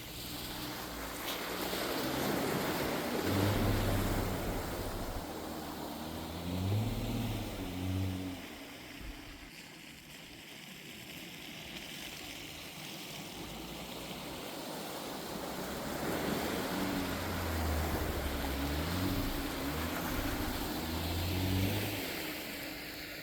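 A Jeep Wrangler in two-wheel drive ploughs through a water-filled wash. Rushing, sloshing water and a low engine rumble swell, ease off midway, then surge again, with wind buffeting the microphone.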